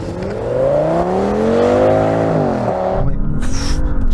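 Audi S8 cars launch side by side in a drag race, their engines revving hard and climbing together through the gears, loud and close, then easing off after about three seconds.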